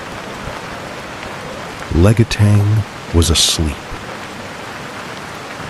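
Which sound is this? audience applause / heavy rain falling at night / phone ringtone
heavy rain falling at night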